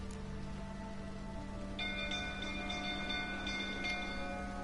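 Steady rain in The Witcher video game, a faint even hiss of falling drops with a low constant hum underneath and thin bell-like tones entering partway through.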